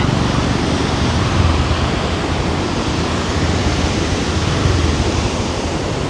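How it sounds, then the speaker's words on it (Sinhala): After Cyclone Ditwa in Nuwara Eliya, a swollen stream rushes past near a small bridge and a landslide: a loud, constant, unbroken roar of water, close by, with no let-up. "වතුර පාරේ සැර. වතුර පාර."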